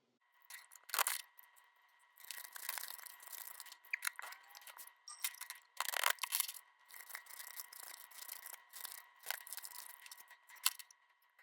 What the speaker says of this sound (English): speed up this recording of when I'm shuffling